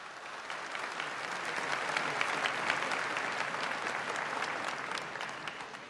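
A crowd applauds recyclers steadily for several seconds at a Recycler's Day event in Ecuador, dense clapping that swells slightly in the middle and holds at an even level.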